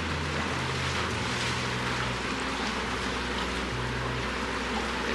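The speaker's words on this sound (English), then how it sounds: "There's the tugboat getting into position." Tugboats guiding a large freighter through the Panama Canal, heard as a steady engine drone and low hum with wind and water noise, continuous and fairly loud without talk.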